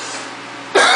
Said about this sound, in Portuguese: Falando muito, acabo tossindo.